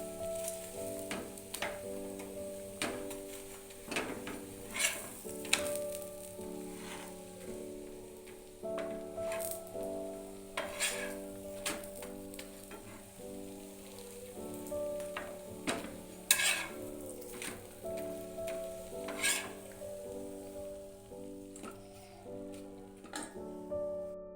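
Chicken pakoras fry in hot oil in a pan, a steady sizzle with scattered crackles and pops plus occasional clinks of utensils, with music playing underneath.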